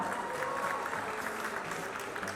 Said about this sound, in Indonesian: Mari kita beri tepuk tangan untuk kita semua.